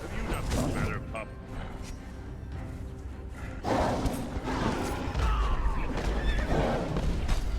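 A horse neighs in a Warrior Thrall fantasy video game, heard amid busy battle sounds, mechanical clanks and creaks, with game voices talking over parts of it.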